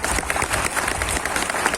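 Students in a class clap together loudly and densely at close range for a short burst.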